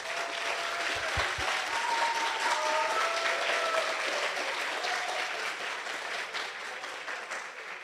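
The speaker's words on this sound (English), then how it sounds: "Big applause for the finalists." An audience at a business plan presentation finals event gives the finalists sustained, even applause from many hands, steady and full for several seconds before tapering slightly at the end.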